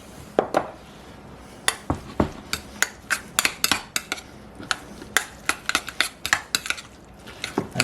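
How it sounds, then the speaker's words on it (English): A spoon clinks and scrapes against a bowl again and again as a tablespoon of regular relish is stirred into sauerkraut for a vegan Reuben, in sharp, uneven taps with brief pauses. "I'm going to mix it in with the sauerkraut and everything"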